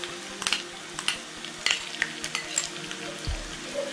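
Chopped onion sizzles in hot coconut oil, a close, even frying hiss with scattered pops and light clicks of a spoon against the pan, and no one speaking.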